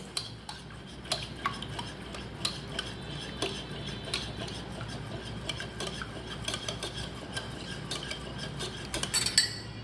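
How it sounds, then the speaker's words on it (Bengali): Whisking a milk and egg mixture in a bowl for a crepe batter, with a steady stream of light clinking and tapping strokes against the bowl, close and moderately quiet, no talking. "এবার এই দুধ আর ডিমের মিশ্রণটাকে খুব ভালো করে ডিমটা দুধের সাথে মিশিয়ে নিতে হবে"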